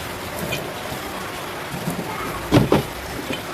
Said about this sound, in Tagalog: Eh, walang tigil ang ulan.